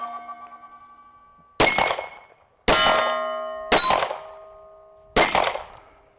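Four 10mm shots from a Springfield Armory XD-M 10 OSP pistol, fired one-handed, each a sharp crack followed by the long metallic ring of a struck steel target, spaced about a second apart.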